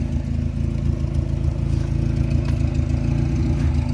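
The engine of a Honda CRX Si drag car idles with a steady, loud, low rumble and a faint, busy clatter running through it. The sound holds constant the whole time, and no one speaks.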